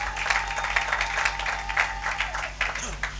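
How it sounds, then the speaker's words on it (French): A church congregation claps during worship with a dense, steady ovation close at hand that has small surges, while a low hum runs underneath and a voice speaks faintly. "Acclamons pour la gloire de notre Dieu, notre Seigneur"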